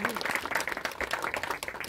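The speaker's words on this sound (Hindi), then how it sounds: "तो एक बार जोरदार तालियां" Loud applause from a crowd at a Hindi film event, dense clapping heard close and continuously, with a few voices mixed into the sound.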